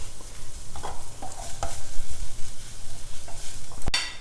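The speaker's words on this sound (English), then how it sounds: "Continue stirring till the mango just softens a little bit." Raw mango pieces and spice mix stirred in a hot pan: steady sizzling with the scrape and clatter of a spoon moving through the food, close and continuous, with a sharp knock near the end.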